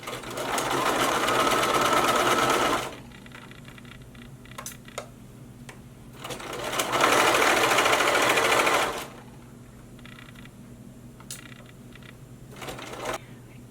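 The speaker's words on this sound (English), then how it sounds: "you do have to stretch a little bit as you sew." A sewing machine stitches a neckband onto a t-shirt in two steady bursts of whirring a few seconds long, separated by quiet gaps with light clicks and handling noise.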